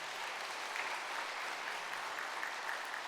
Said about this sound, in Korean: 우리 잘 되기를 축복하는 마음으로 박수 한번 하겠습니다.